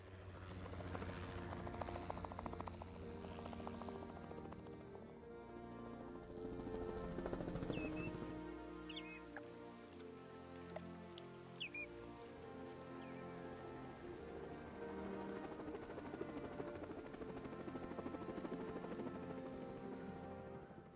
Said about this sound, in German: Und da sind wir schon mit dem Helikopter angekommen auf Isla Nublar von 1993.